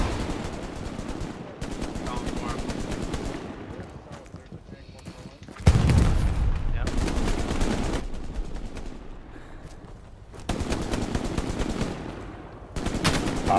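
Sustained bursts of Browning machine gun fire in the PS5 game Hell Let Loose, a dense rapid rattle continuing almost throughout with brief gaps and a louder burst midway, with players talking over it.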